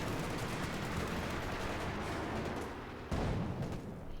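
Artillery fire from a pack howitzer in the WWII strategy game Company of Heroes 2, a dense continuous barrage of booms and blasts with a sharp louder hit near the end, no voices.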